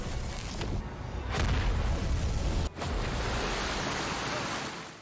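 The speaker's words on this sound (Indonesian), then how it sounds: "tiba-tiba saja terjadi ledakan yang sangat besar" A very large explosion in a dramatic film scene: a loud, sustained deep rumble and roar that fills the whole clip, briefly dipping in the middle before surging on and slowly fading, with no voices.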